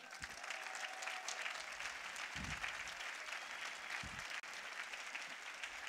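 Crowd applause at an Izquierda Unida political rally in a town square in Getafe, steady and dense, heard at a low level with a few dull thumps underneath.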